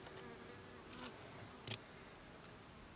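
Young bees buzz steadily around an opened log hive during inspection, a continuous close drone with a couple of brief louder bumps or knocks.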